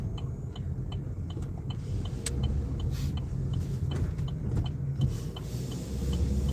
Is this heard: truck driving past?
yes